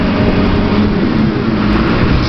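A car passing close by, heard as a loud, steady roar of engine and road noise with a low rumble that holds for a couple of seconds and doesn't fade.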